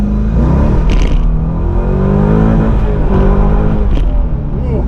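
A Corvette C5 Z06 on new wheels and tires pulling hard on cold pavement, a deep loud engine roar rising steadily from inside the cabin, with short bursts of tire chirp and clatter.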